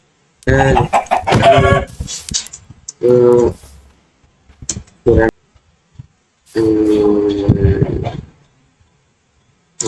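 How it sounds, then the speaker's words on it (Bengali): Minecraft chickens cluck in short bursts amid a player's talking, with gaps of quiet between the sounds. "এটা হচ্ছে এই যে চিকেন, হ্যালো মুরগি"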